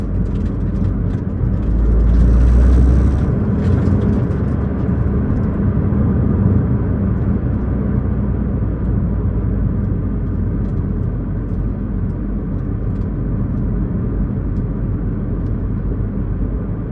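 Toyota GR Corolla Morizo Edition with a 1.6-litre turbo engine pulls hard on a mountain road, a loud, steady engine drone and road rumble from inside the cabin with no talking.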